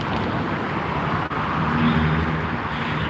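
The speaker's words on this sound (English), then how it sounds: "There's a lot of cars starting to pass because it's getting later in the morning." Steady roar of cars passing along a road beneath bridges in the morning, a dense continuous wash of traffic noise heard from nearby with no talking.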